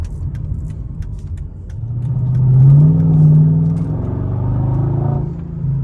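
2004 Mercedes SL55 accelerating on the road, the engine rising in a loud, close surge that peaks midway and holds a strong roar to the end, with no talk over it.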